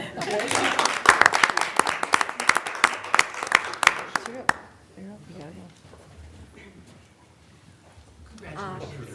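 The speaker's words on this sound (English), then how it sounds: "The next round of applause goes to Molly Lewis" Applause from the audience at a school board meeting, a dense burst of clapping for several seconds that stops abruptly, then quieter background murmur and a voice speaking.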